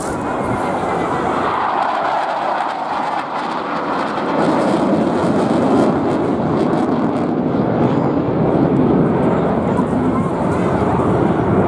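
Saab Draken jet aircraft flying at the Airbourne 2024 airshow, a loud continuous broadband roar that swells and shifts over about twelve seconds, with a voice talking over it.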